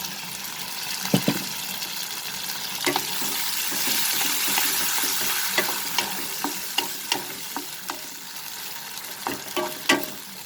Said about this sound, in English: And we will cook this till our tomatoes get slightly cooked.